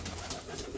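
A pigeon gives a brief, low coo close by over a steady, faint background hiss.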